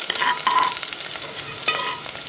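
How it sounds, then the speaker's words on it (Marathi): Broken barnyard millet rice is stirred and sautéed in a hot pan over medium heat, giving close, continuous sizzling with scraping stirring strokes and a brief louder scrape near the end, with no talking. "आता यात हे भगरीचे तांदूळ टाकले। आणि छान परतायचे।"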